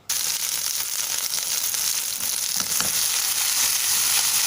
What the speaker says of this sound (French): Je vais venir le mettre dans la poêle bien chaude.